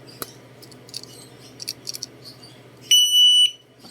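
A single short electronic beep sounds near the end, clear and high-pitched, from a KOViX KNX-10 disc brake lock alarm, following faint clicks and handling noises in a quiet room.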